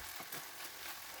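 Chicken and mushrooms frying together in hot oil in a pan, a steady soft sizzle and crackle at close range with no voices.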